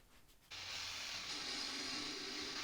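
Wood is trimmed flush around the existing birch headstock of a Strat-style guitar build, a loud, steady hissing cut that kicks in abruptly after half a second and runs to the end.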